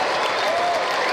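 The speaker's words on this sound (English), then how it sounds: "This crowd is nuts." Soccer crowd cheering loudly after a goal, a dense sustained roar of voices and applause filling the stadium, with a faint whistle-like tone rising briefly in the middle.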